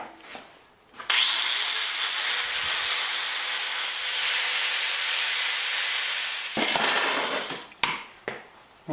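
A metal bed frame being cut with a power tool, a loud continuous high whine lasting about five seconds, starting and stopping abruptly, followed by a few short bursts near the end.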